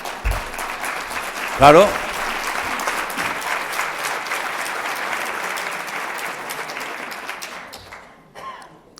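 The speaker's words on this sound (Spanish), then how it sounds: "Gracias por los aplausos" An audience at a talk breaks into sustained applause, a dense wash of many hands clapping that holds steady for several seconds before tapering off; a voice speaks briefly at the start.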